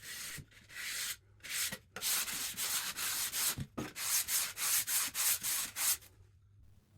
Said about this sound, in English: Use the forward-backward movement for sanding.